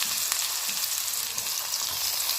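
Onions fry in hot oil in a pan for chicken samosa filling, giving a steady, close sizzle with faint stirring scrapes and no talk.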